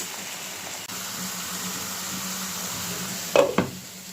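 Spice paste being cooked down in a pan for a dry fish curry gives a low, steady sizzle. Near the end come a couple of sharp scrapes or clanks of stirring.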